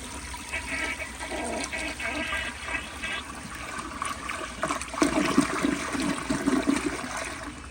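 A 1987 Kilgore Aladdin toilet with an overfilled tank flushes in a long, rushing gurgle that swells louder past the midpoint, close up and without talk.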